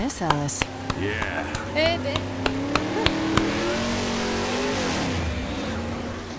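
A rescue vehicle's engine in a Halloween video game revs and drones steadily, its pitch climbing and shifting, with sharp clicks and clatters on top and voices talking over the sound.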